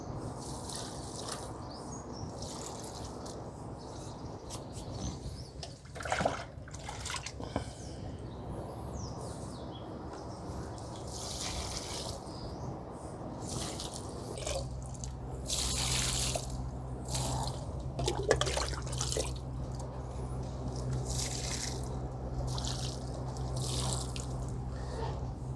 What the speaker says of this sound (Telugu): సో దీన్ని మనం డైరెక్ట్గా మొక్కలకే పోసేద్దాం.